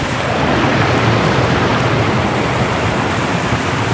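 A cold glacial meltwater stream rushes on a mountain climb to Hockleckenhaus in Austria, a loud, continuous broadband roar of flowing water close by.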